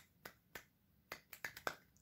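One hand claps softly against itself, producing about eight sharp, quiet snaps that come in an uneven rhythm, with a few quicker ones bunched toward the end, heard close with no talking.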